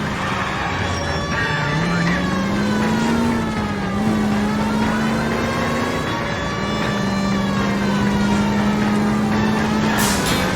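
In an L.A. Noire car chase, roaring engines rev loudly and continuously with a wavering siren-like whine over them, and no voices speak.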